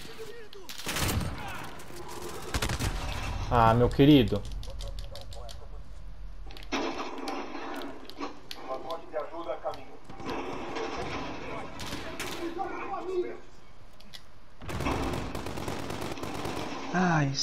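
FAMAS rifle fire in Call of Duty Modern Warfare: short bursts of gunshots among game sounds, under a player's casual talk.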